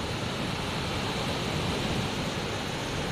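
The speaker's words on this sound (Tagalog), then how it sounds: "Ngayon maliliit na yung alon kasi wala ng bagyo." Small waves washing steadily onto Ransang beach in Rizal, Palawan, a continuous broadband hiss of surf with no talk.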